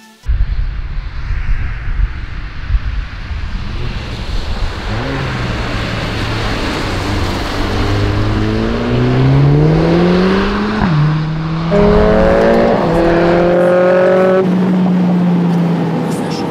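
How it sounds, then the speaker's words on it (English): A Mercedes A45 S AMG's turbocharged four-cylinder engine revs hard through rising gears, pitch climbing then dropping at each shift, loud and close with steady road roar underneath. "we're driving the A45 S AMG in stock conditions and it's fast it is"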